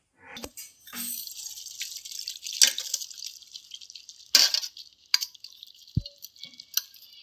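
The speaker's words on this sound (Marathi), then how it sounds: "आता आपण ही चाळणीने चाळून घेऊया" Water splashes and drains through a sieve from soaked leafy greens in a few bursts, followed by scattered drips and trickles, close by.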